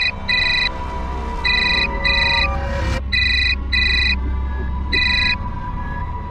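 Loud electronic ringtone of an incoming phone call repeats in short paired chirps with brief gaps, close and clear over a low background hum.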